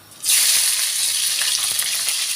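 Green and red peppers dropped into a hot pan burst into a loud, bright sizzle that starts suddenly and keeps crackling steadily, close up with no talk.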